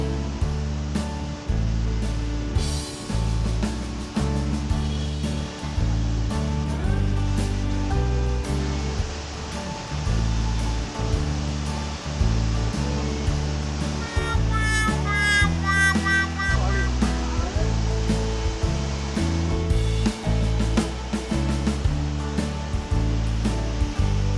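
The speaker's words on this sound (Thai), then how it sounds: "มองเห็นน้ำตกอยู่ข้างหน้าแล้วครับ" Wachirathan waterfall at Doi Inthanon pours in a steady, loud roar of falling water, mixed with a continuous layer of music that runs through the whole stretch, no talking.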